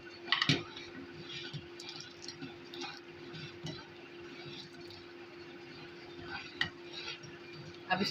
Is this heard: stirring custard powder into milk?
yes